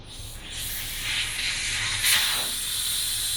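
Air hisses softly out of a tyre's inner tube through its valve stem, a steady faint rush with a slight swell near the end.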